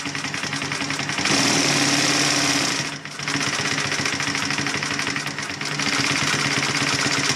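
Brother LS2 B837 unison-feed industrial lockstitch sewing machine running at speed, a loud steady mechanical whir with rapid needle clatter, pausing briefly midway before starting up again.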